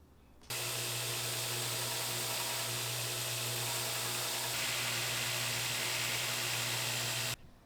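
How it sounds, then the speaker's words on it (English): A power grinder grinds scale off metal, running continuously with a harsh, hissing whine, starting abruptly and stopping abruptly, loud and close, its pitch shifting slightly midway. "So now we're going to grind away the scale."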